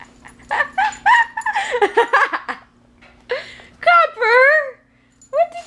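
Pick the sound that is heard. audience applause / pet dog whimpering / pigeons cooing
pet dog whimpering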